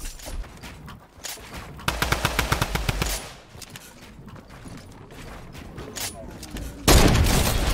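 Fortnite gunfire with rapid automatic bursts, single shots and mechanical clicks, loud in several volleys, while players talk over the action.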